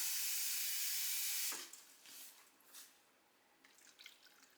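Cold tap water pours into a bowl of sliced cucumbers for bread and butter pickles, a steady hissing stream for the first second and a half, then softer splashes and trickles as the flow eases.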